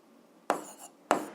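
Two short, sharp taps from pen or chalk marks while writing out a linear equation, each a crisp, close click with a brief scratchy tail, spaced about half a second apart in an otherwise quiet room.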